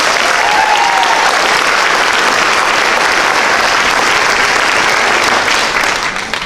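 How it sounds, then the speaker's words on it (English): Sustained applause from an audience at a high school senior awards ceremony, a dense, loud wash of clapping that holds steady throughout and thins slightly at the very end. "So if we could give them a round of applause."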